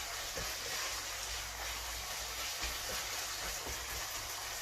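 Beef sears in very hot oil in a wok for black bean sauce, giving a loud, steady, broadband sizzling hiss that runs unbroken throughout with no talking.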